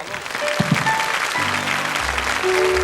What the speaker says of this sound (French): Enfin, Eddy, on l'applaudit très très fort.